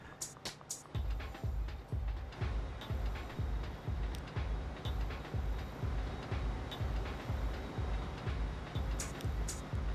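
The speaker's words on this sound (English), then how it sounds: "We'll just wait for this train to pass through." In Transport Fever 2, a simulated train rolls past with a steady rhythmic clickety-clack of wheels over rail joints, loud and close and continuous, with a few sharp clicks at the start.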